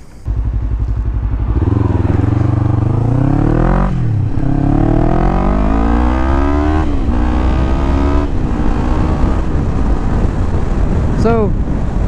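Yamaha R3 motorcycle with an aftermarket Akrapovic exhaust, ridden close up: the engine note climbs and drops through gear changes, loud and steady, with wind buffeting throughout.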